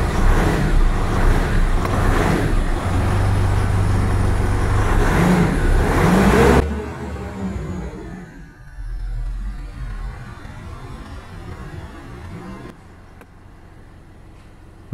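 A 2012 Mitsubishi Montero Sport with a hard-starting problem cranks and catches, its engine revving loudly up close for several seconds before dropping to a quieter, steady idle.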